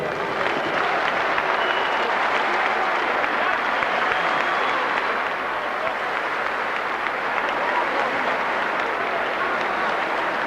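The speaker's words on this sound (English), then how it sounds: "A round of applause for the game challenge of Jose Badillo." A packed boxing arena keeps up loud, sustained applause and crowd roar after Naseem Hamed's WBO featherweight title defence against Jose Badillo, an unbroken wash of clapping with faint voices underneath.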